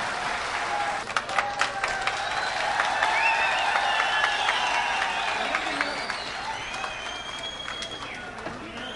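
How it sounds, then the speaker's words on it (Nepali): An audience at a Nepali Youth Club musical program in Jeddah, Saudi Arabia, applauds the chief guest. The steady crowd clapping swells and fades over about nine seconds, with some whistles and voices mixed in. "साथीहरू तालीले उहाँलाई सहयोग गरौँ"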